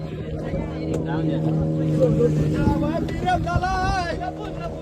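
A boat's engine idles with a steady low drone and harmonic hum, close by, while several people talk and chatter over it.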